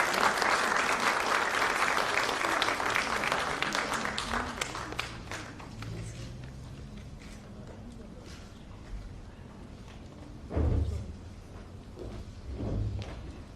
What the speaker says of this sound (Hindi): ताली भी बजाई जाती है